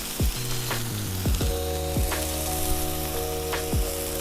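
Smash burger patties sizzle on a Blackstone griddle, a steady close frying crackle broken by several sharp metallic scrapes and presses of a spatula, with no talking.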